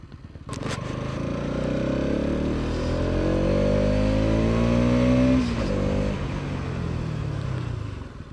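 A Bajaj Pulsar NS200 motorcycle being ridden, its engine steady and close with rising and shifting tones as it accelerates and changes gear.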